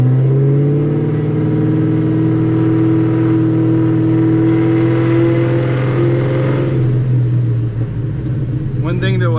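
A 2003 Ford Mustang SVT Cobra Terminator drives through a downtown area, its engine giving a loud, steady low drone from inside the car, easing off near the end before a brief higher burst.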